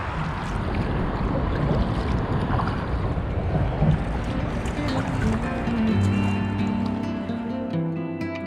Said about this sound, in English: My God, those boats have made this water choppy.